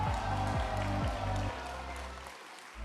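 A crowd applauds at a Taiwan Television 60th-anniversary press conference launching the cast of the prime-time drama Beautiful Life (美麗人生). The clapping is a dense, steady wash over low tonal sounds and eases off toward the end.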